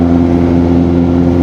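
A Honda CRF150 motorcycle engine runs loud and close, a steady harmonic drone held at high revs through the whole moment with no break.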